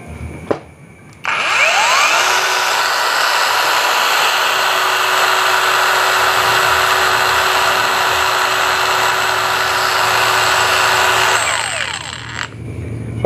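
A Hujia cordless brushless angle grinder switching on and spinning up to full speed, a loud steady high-pitched whine held for about ten seconds at close range, then winding down as it stops.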